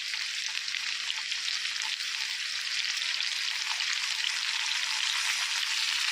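Food frying in a pan for mint chutney gives a continuous, even sizzle with a faint crackle, steady and close, with no voices over it.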